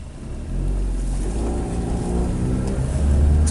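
A 2012 Nissan Versa engine with a suspected slipping transmission and throttle sensor faults drones steadily and rises slightly as the gas is pressed, a low continuous hum heard from inside the car.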